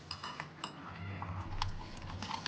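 Spoon stirring mayonnaise, garlic and salt in a bowl, producing a quiet run of light metallic clinks and scrapes against the dish in an irregular rhythm, close up.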